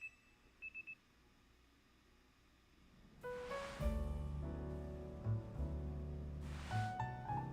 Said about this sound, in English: your alarm is going off.